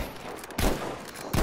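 Two sharp gunshots in a video game, about three-quarters of a second apart, each a loud thump over a steady noisy background.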